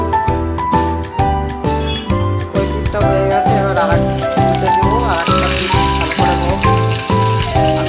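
Bottle gourd-leaf parcels tied with string sizzle in hot oil in a wok, a loud, steady frying crackle layered over rhythmic tonal background music.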